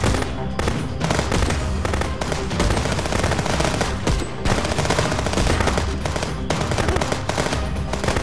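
Rapid, loud gunfire crackles almost nonstop, dense bursts of automatic shots with brief gaps, sounding close and intense, a firefight in the video game Contraband Police.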